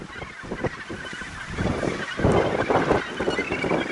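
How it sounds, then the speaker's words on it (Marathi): A dense chorus of gannet colony calls, harsh and overlapping, swells from many birds at once against wind and surf at Muriwai Beach, west of Auckland. "हे कॅनेट पक्ष्यांची कॉलनी आहे संपूर्ण इथे"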